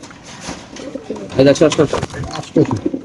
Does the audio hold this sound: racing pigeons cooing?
yes